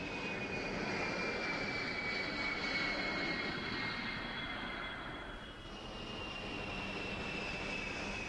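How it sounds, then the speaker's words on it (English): Air Force C-141 Starlifter transport aircraft in close formation produce a steady, broad engine roar with a faint high whine that dips slightly midway. "Six Air Force C-141 Starlifters fly in close formation."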